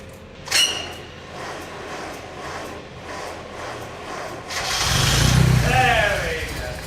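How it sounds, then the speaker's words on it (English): A supercharged Miata engine being cranked to prime the supercharger with oil: a brief clunk, a low mechanical hum, then a few seconds of rough, loud cranking churn, with a voice heard earlier. "next up is priming the supercharger to get the oil through it"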